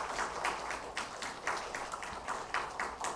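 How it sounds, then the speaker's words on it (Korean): A church congregation at a Sunday worship service at Hanyang University Church claps in congratulation, a faint, steady patter of many hands with soft rhythmic swells throughout. "이 시간 좀 축하의 마음 담아서 박수해 주시길 부탁을 드리겠습니다"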